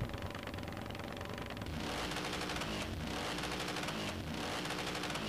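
Video game motorcycle engine held against the rev limiter, a loud close buzzing roar chopped by rapid rhythmic cutouts, with a few deeper stutters, no voices.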